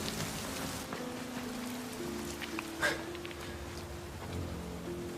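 Steady rain falls on a surface as a continuous hiss of drops, with faint low hum and a brief louder splash midway, no voices present.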